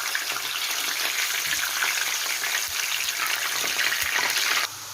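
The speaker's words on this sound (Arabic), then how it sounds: "بعد ما غسلتها صفيتها اهو، نحمرها بالزيت." Potatoes, washed and drained, sizzle steadily in hot oil in a home kitchen, a dense continuous crackling hiss that holds loud and even before cutting off abruptly near the end.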